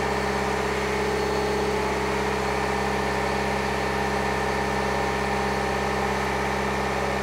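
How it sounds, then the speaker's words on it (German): A BMW diesel engine held at a raised 2000 rpm, giving a steady, continuous drone with constant loudness throughout and no voices. "wir erhöhen die Drehzahl auf 2000 Umdrehungen"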